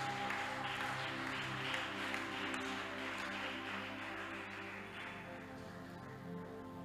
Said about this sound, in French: Est-ce que tu peux acclamer encore?